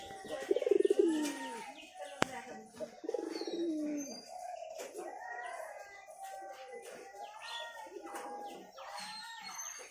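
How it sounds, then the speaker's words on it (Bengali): Pigeons coo in low, repeated throaty phrases at close range, with small birds chirping faintly in the background. "এখানে যে সাদা দুটো পায়রা দেখতে হয়, ওই সাদা দুটার জোড়া।"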